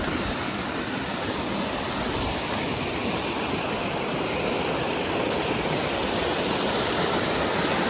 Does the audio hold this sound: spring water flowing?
yes